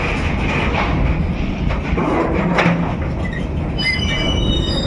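A train carrying stone rumbles loudly and continuously along the rails of the Nashipur rail bridge, wheels grinding and squealing in high thin tones toward the end.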